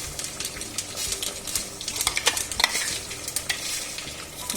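Smashed chickpeas are stirred into a simmering kadala curry, with a soft frying sizzle under repeated scraping clicks of a spoon against the pan in an uneven rhythm.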